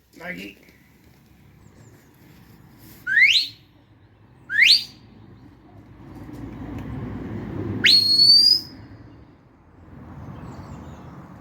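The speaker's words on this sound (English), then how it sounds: "So that's her right whistle, yeah?" Three sharp rising whistles from a shepherd commanding a sheepdog, loud and nearby, separated by pauses, with soft outdoor background noise between them.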